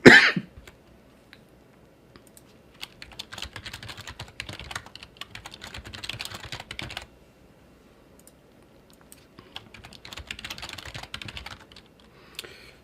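Fingers type a password on a computer keyboard in two bursts of rapid, close clicking separated by a quiet pause, with a brief throat-clearing noise at the very start.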